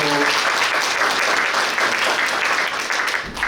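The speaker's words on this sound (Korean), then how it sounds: "큰 박수로 맞아주시죠" An audience at a Suncheon ecological transport policy talk show applauds loudly and continuously to welcome a speaker, dense clapping throughout.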